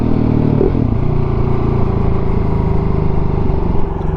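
A KTM 690 SMCR motorcycle fitted with a 15-tooth front sprocket rides on a cold road, its single-cylinder engine droning loud and steady close to the microphone, with a slight clatter and no talk.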